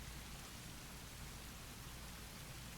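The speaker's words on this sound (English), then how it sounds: "So the noise echoing in my ears was the sound of rain falling." Steady rain falls in the visual novel game Tsukihime Remake, a continuous even hiss of downpour that stays constant from start to finish, with no voices.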